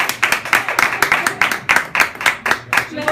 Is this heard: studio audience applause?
yes